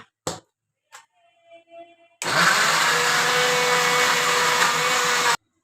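An electric blender grinding garlic and chilli into a sauce paste: a few brief knocks and short motor bursts, then a loud, steady whirring run lasting about three seconds that stops abruptly.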